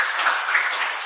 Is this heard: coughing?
no